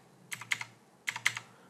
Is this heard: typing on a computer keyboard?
yes